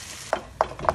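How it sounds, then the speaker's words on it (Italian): Stirring cooked cannellini beans with cherry tomatoes in a pan for pasta with beans and mussels: three distinct scraping stirs of a utensil against the pan, evenly spaced and close, with no voices. "Mescoliamo un po'"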